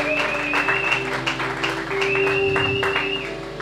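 A church congregation at a French-language sermon applauds, steady crowd clapping held over a sustained organ-like chord throughout, fairly loud and continuous.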